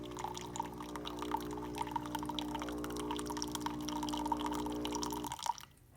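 A Starbucks Verismo V brewer pushes water through its internal pipes, giving a steady low mechanical hum with gurgling, dripping liquid over it for several seconds before cutting off abruptly near the end.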